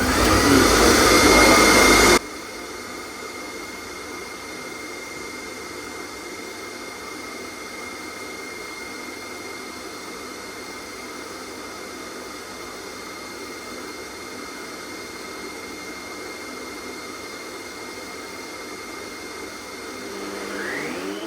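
Woodworking planer thicknesser running with dust extraction on, cutting a chopping board: a loud roaring whine for the first two seconds, then a steady, quieter machine drone that swells slightly at the end.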